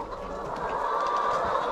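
Free-range chickens cluck softly and continuously, close by, with no voices over them.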